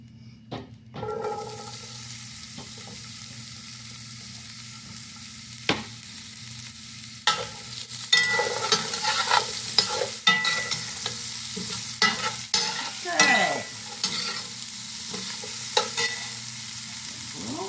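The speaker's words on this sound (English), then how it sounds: "And we'll soften the onions" Onions softening in hot olive oil in a pot, a low sizzle with intermittent scraping and stirring clatters from a spoon, close and fairly loud, no talking.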